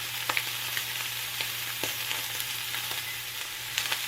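Pork chops sizzle steadily in a hot frying pan, a loud, even hiss with small pops and crackles scattered throughout.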